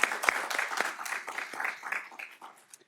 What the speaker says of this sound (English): applause for yourselves